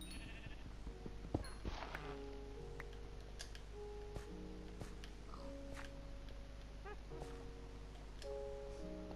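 Repeated sheep bleats from Minecraft (PS4 Edition), mixed with soft clicks and ambient tones, several short calls spread across the clip at moderate volume.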